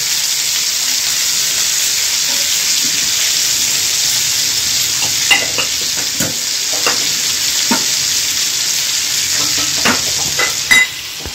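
Mutton with biryani masala sizzles steadily in a pot as a spoon stirs it, with close scraping clicks and taps rising over the constant frying hiss.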